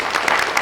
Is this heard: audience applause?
yes